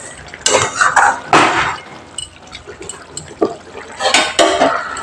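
Cauliflower curry stirred in a pan, with a spoon scraping and clinking against the metal in irregular bursts, close and fairly loud, with wet splashy rustles in between.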